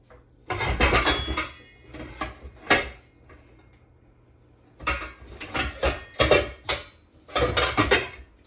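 Metal pot lid and cookware clatter in bursts while making Filipino beef nilaga, sharp clanks and rattles in two clusters separated by a quiet pause, close and fairly loud.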